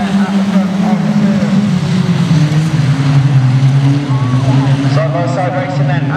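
Junior special autograss cars racing side by side at a Nottingham meeting, a loud continuous droning engine roar with shifting pitch. A commentator talks over it.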